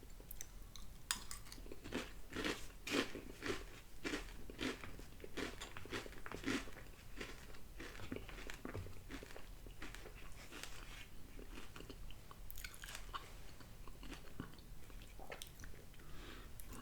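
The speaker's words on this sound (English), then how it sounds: "But when you're chewing it, it's very crunchy." Crunchy Magic Spoon cocoa protein cereal chewed up close, a steady run of crisp bites and crunches continuing alone throughout, with faint dish and spoon clinks and no talking.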